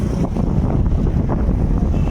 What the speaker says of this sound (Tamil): சரியான காற்று வர வாய்ஸ்க்கு எப்படி கேட்குதுன்னு எனக்கு தெரியல